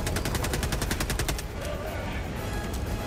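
Rapid automatic gunfire in the video game Helldivers 2, a fast evenly spaced burst of loud close shots lasting over a second, then a duller rumbling tail of distant combat noise.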